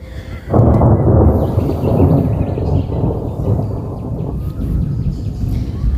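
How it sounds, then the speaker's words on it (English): Spring thunderstorm rolling in over Australia: a sudden loud, deep rumble starts after half a second and carries on as a sustained broad roar that fades only slightly, with no voices. "Got a beautiful storm coming in."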